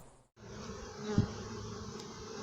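A steady, soft buzzing of bees drones continuously, with a slightly louder pass near the middle.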